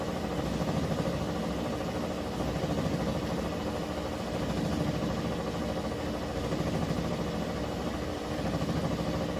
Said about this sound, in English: Okay, we're on the final spin. It's in a high speed spin.